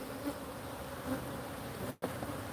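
Honeybees buzz steadily at an open hive during a check, a dense close hum with no talking, briefly cut by a short dropout near the end.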